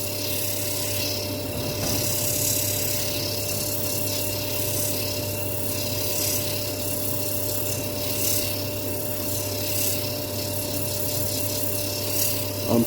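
Camphor laurel wood is sanded on a lathe, starting at 120 grit, as a continuous rough rubbing hiss over the steady hum of the spinning lathe, unbroken for the whole stretch.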